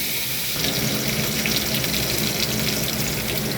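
Tomatoes hit hot oil spiced with black cumin and dry red chili, giving a loud, dense, continuous hiss and sizzle that stays steady and close throughout, with no talking.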